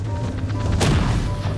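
A small bomb bursts in the video game Party Animals, one sharp loud blast with a short rumbling tail cutting through a steady background of game music and noise.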